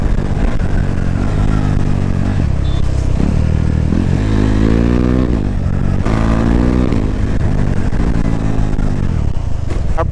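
Modified BS6 KTM Duke 390 motorcycle engine revving hard, loud and close with rising and falling pitch sweeps as the throttle climbs and drops, continuous for about ten seconds with no talk.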